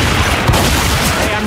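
Rapid gunfire from Left 4 Dead 2 aimed at armored zombies in the CS_Office map, a dense burst of overlapping shots lasting just over a second.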